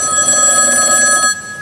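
A telephone rings loudly and close during a call-in religious talk show, a single sustained electronic ring that cuts off just before the end, with no talk.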